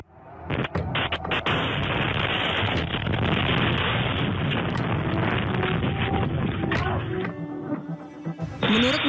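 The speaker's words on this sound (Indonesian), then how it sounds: "Rekaman CCTV menunjukkan momen ketika sebuah roket menghantam area perumahan di Kiryat Shmona di distrik utara Israel." A rocket striking a residential area in Kiryat Shmona, northern Israel, captured on CCTV: a loud, sustained roaring blast and rumble with crackling debris, fading toward the end.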